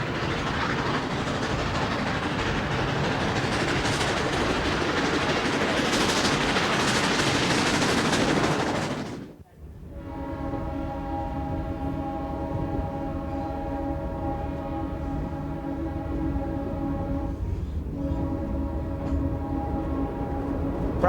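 Steam locomotive No. 73 on the White Pass & Yukon Route rumbles past loudly with a broad roar, then a sudden drop before a steady engine hum with sustained tonal notes carries on.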